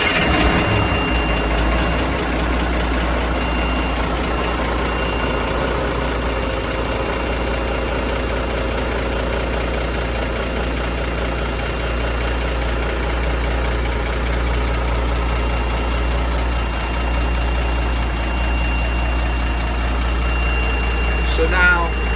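An M923A1 military truck's diesel engine, which has erratic engine oil pressure, runs at a steady idle close by, a low loud drone with a constant knocking throb from start to finish.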